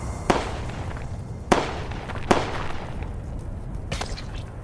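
Gunfire in an online military shooter game: three sharp, separate cracks about a second apart, moderately loud over steady background noise, with no talking.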